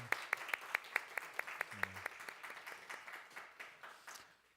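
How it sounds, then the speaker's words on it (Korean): Congregation applauding to welcome five students seated at the front during a Sunday church service, scattered claps with a few sharp near strikes that thin out and fade over a few seconds, fairly quiet overall. "그래서 박수로 환영하겠습니다"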